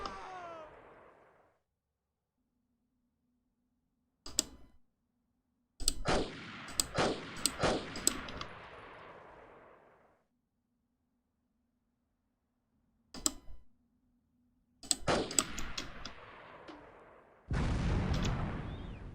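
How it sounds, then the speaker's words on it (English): Grenade launcher fire in the video game Delta Force: Land Warrior: sharp booming shots and explosions in separate clusters with decaying rumbles, loud and close, separated by stretches of near silence. "Someone's going nuts with a grenade launcher."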